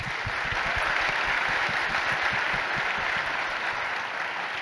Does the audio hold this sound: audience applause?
yes